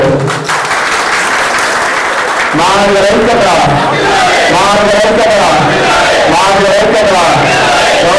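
A large crowd at a political rally breaks into loud, sustained applause and cheering for Manda Krishna Madiga, swelling after a short lead-in and continuing unbroken to the end.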